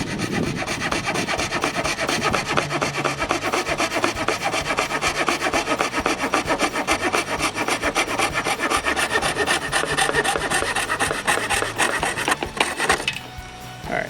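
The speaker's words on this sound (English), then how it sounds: "you're going to angle the saw back a little bit too" A hand saw cuts through wooden baseboard trim, its steady back-and-forth rasping strokes running close and loud without pause for most of the stretch, then breaking off near the end.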